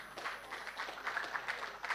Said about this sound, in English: let's give a round of applause for Bimbo Fisher.